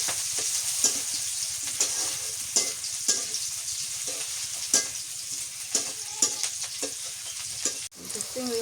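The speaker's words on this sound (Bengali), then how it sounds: "সিম আর চিংড়ি মাছ আমাদের মতো তেলানি করতেছি।" Flat beans and shrimp fry in oil in a pan, giving a steady close crackling sizzle with regular scraping strokes of a stirring spatula, without speech.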